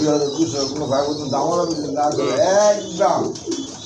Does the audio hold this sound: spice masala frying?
no